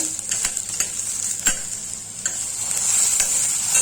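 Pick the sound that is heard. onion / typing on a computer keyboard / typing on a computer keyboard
onion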